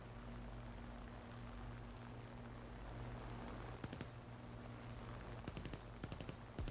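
Aircraft machine guns in the War Thunder video game fire in short rapid bursts over a steady droning engine hum, quiet and brief, with a pause between volleys.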